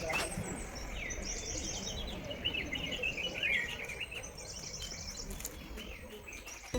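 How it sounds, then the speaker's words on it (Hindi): Wild birds chirp and trill outside a hotel window in Darjeeling, with repeated high calls over soft insect buzz and a hushed outdoor background. "और आपकी इस नज़र को चार चांद लगा देगी जंगली पक्षियों की सुरीली आवाज़।"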